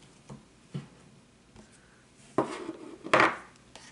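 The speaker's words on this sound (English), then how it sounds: "Mixing the cards up." Tarot cards being mixed up by hand, a few soft taps and sliding rustles building to two louder brushing shuffles near the end, close and fairly quiet.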